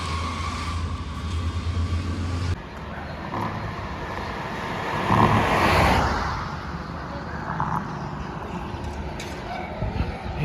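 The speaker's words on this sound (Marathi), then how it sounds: "गाड्या चालल्यात मस्त" Road traffic rumbles past at a roadside stop in Uttar Pradesh on the way to the Nepal border, a steady wash of engine and tyre noise with one vehicle swelling louder midway.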